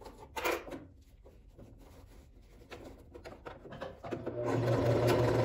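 A sewing machine runs a closing seam through synthetic leather, starting with scattered rubbing and handling noises and then settling into a steady, fairly quiet motor hum.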